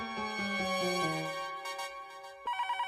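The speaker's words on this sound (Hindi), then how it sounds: "सीडी भाई का फोन है।" A melodic mobile ringtone plays loudly and alone, a descending tune of clear tones followed by a brighter repeating ring, in the Hindi sitcom Taarak Mehta Ka Ooltah Chashmah.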